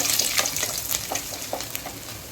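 Ginger and garlic sauté in a pan, giving a brief crackling fry with a few soft stirring scrapes. The sound is moderately loud and close.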